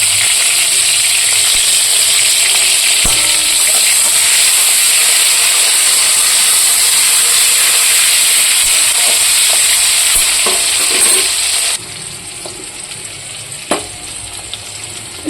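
Nigella seeds, green chillies and tomato sizzle loudly in a hot pan with a constant hissing crackle, which suddenly drops to a softer sizzle toward the end.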